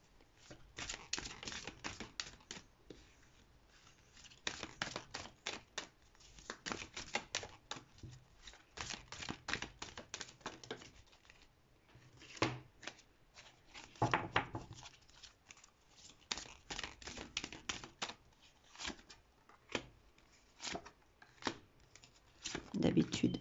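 Oracle cards, including a water oracle deck, are shuffled and drawn by hand. Quick, soft flicking and riffling clicks come in bursts with brief pauses, close and quiet, while a voice speaks at times.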